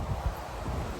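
Strong gusty wind blowing outdoors on a riverbank, a steady rumbling buffet of air against the microphone with a couple of stronger low thumps, no voices.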